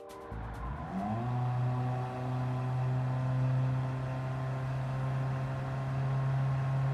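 Toyota Aqua with a CVT in Gran Turismo 7, its engine rising quickly and then holding one steady, droning whine at near-constant pitch, loud and close with no talk.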